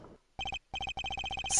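A telephone rings in the Ace Attorney Investigations video game: electronic double-pulse trills repeat in quick, even bursts after a short pause, loud and clear with no voices.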